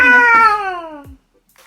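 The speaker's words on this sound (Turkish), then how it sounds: "Kedi." A single, clear cat meow close by, rising then falling in pitch, followed by a brief silence.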